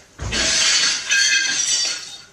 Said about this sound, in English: Sounds like some broken glass outside somewhere.